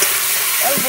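Spice masala sizzling in hot oil for a mutton curry, a brief, steady, close-up frying hiss.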